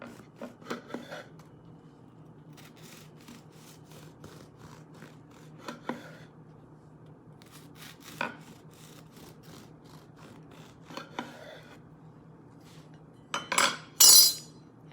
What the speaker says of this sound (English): And it slices basically like regular bread.